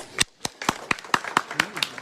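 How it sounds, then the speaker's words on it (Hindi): A political rally crowd in Bulandshahr claps in a quick, rhythmic beat, with sharp, distinct claps close together and a voice faintly audible underneath. "ताली मत बजाओ ना"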